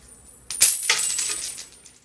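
Coins dropping and jingling together, a bright metallic clatter that starts suddenly and rattles on for over a second before settling, close and alone.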